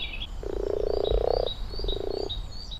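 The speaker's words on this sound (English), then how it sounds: "The sound of mating frogs." Mating frogs at a park pond give long, purring croaks, one sustained trill followed by a shorter second one, moderately close, with faint birdsong chirping above.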